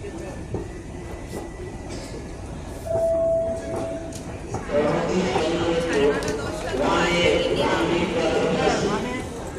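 A train pulls into Dum Dum station in Kolkata, with a heavy rumble swelling and then holding loud and near, while people talk over it.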